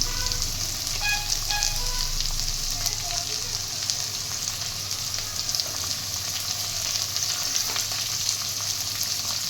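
Chopped onion, ginger and minced garlic sizzle steadily in hot oil in a pan, a continuous close frying hiss with faint scraping, no talk over it.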